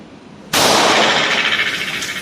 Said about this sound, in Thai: แล้วก็จะยิงที่ระยะ ประมาณสิบเมตรนะครับ ยิง ยิงมือเดียวนะครับ